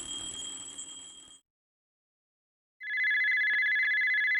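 Telephone ringing in the video game Dialtown: a bright electronic ring that stops abruptly, then after a gap of silence a louder, steady ringing tone starts again, with no talk.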